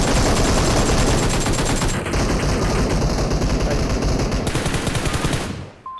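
Rapid automatic gunfire in PUBG Mobile as a player shoots his own teammate, a loud, dense burst of shots running for several seconds before cutting off abruptly.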